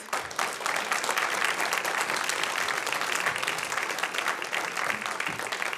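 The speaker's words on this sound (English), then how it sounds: "A round of applause for our graduates." An audience applauds graduates at a temple volunteer appreciation program, with dense, steady clapping that lasts throughout and stays fairly even, and no talk over it.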